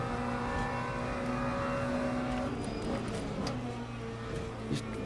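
Race car engine in Le Mans Ultimate holding a loud, steady high-pitched drone with shifting tones, easing slightly near the end, up close and without talk.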